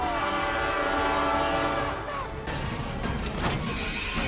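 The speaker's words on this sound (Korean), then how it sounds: "터널로 도망쳐보지만 엎친 데 덮친 격으로 정면에선 기차가 달려옵니다." A train charges through a tunnel in a film scene, a sustained horn-like tone over rumbling wheels that shifts into clattering, crashing noise toward the end.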